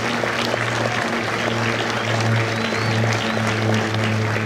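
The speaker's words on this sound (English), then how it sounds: "Ladies and gentlemen, a round of applause for their dedicated service to Corps and country." An audience at a Marine Corps Recruit Depot San Diego graduation ceremony applauds Marine veterans, a dense, sustained clapping that fills the whole stretch over a steady low hum.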